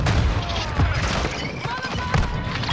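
Gunfire and explosions in Call of Duty, dense and continuous, with sharp bursts and low thuds over steady game noise for a few seconds. No one speaks in this stretch.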